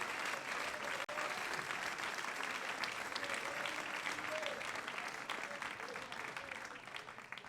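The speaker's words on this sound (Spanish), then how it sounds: "Denle un aplauso fuerte al Señor." A church congregation applauding the Lord, steady dense clapping from a large crowd that holds evenly throughout and fades slightly at the end.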